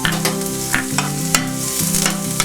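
Garlic fries in hot oil with a close, busy sizzle and light stirring scrapes, and a steady tonal musical backing plays underneath.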